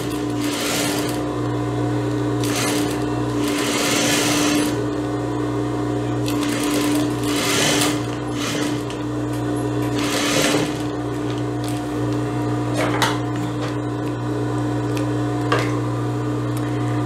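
Sewing machine running continuous bursts while stitching the sleeve hem of a blouse, a close, steady mechanical whir with brief pauses and light handling noises in between.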